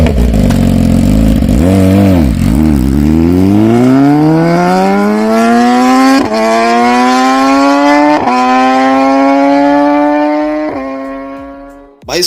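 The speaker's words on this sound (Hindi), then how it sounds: "भाई इसका साउंड तो कुछ ज्यादा ही लाउड था यार।" Close and very loud, a BMW S1000RR superbike with an SC-Project exhaust rips from a rough low idle into a long rising rev, its pitch climbing with a few sharp throttle stabs before cutting off.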